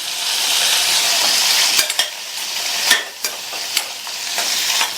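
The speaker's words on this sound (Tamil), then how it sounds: "நம்ம சேர்த்துருக்கிற இந்த வெங்காயம் பூண்டு ரெண்டுமே நல்லா வதங்கி வந்துடும்." Onions and garlic sautéing in a pan for spicy onion chutney, a constant bright sizzle with several sharp spoon-on-pan knocks and stirring scrapes scattered throughout, close and fairly loud, no talking.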